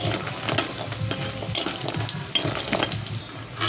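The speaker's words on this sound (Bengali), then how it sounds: "মাছ ভাজা তেলেতে আমি বড়িগুলো ভেজে নেব।" Lentil dumplings (bori) frying in leftover fish oil in a pan, a steady dense sizzle with bursts of crackle and bubbling, close and continuous, with no talk.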